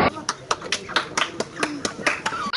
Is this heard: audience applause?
yes